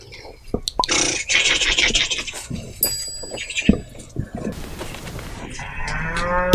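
Sheep at a rural home in Gilan bleat loudly and close by, with scraping and shuffling around them. A long wavering bleat comes at the end, and a voice speaks briefly.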